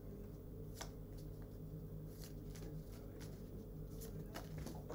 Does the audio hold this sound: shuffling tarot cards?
yes